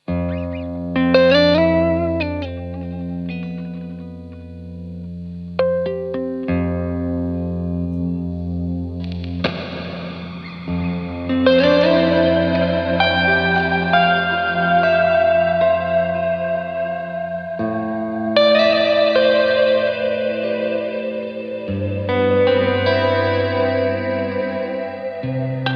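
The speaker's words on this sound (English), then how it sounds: "it's just a beautiful reverb pedal" An electric guitar played through a Context 2 reverb pedal rings out in lush, washy chords and notes with long reverberant tails, swelling and shifting over about twenty-five seconds with no talking.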